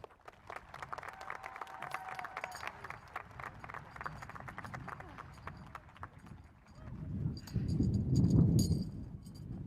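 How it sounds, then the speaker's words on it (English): An audience at a school event claps for a student speaker, starting with scattered, uneven hand claps that swell into fuller, louder applause toward the end. "Please join me in a round of applause."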